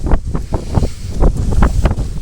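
Strong, gusty wind buffets the microphone in loud, irregular rumbling blasts that surge and fade every fraction of a second, with no voices.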